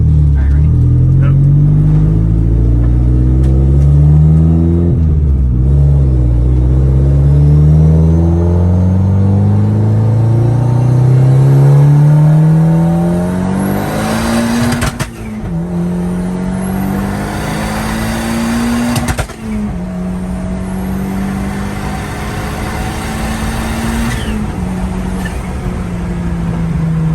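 A Hyundai Genesis Coupe engine revs on a dyno, a loud droning climb through the gears with rising pitch, brief drops at each shift, close and sustained, with voices talking over it.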